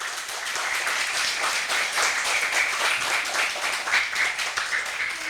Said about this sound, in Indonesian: Boleh tepuk tangannya untuk Bapak Sulaiman Hakim.